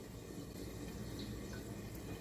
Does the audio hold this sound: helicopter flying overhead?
no